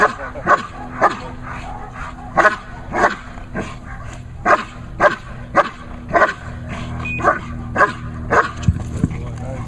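A dog barks repeatedly in sharp, loud bursts at a steady pace, with a few whimpery yips mixed in and faint background noise.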